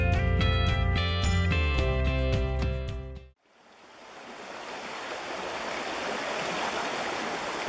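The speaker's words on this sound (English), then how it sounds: "The moving water grabs air as it tumbles over rocks" Stream water tumbling over rocks after a burst of music ends, a steady broadband rushing and gurgling that swells and holds loud and close to the end.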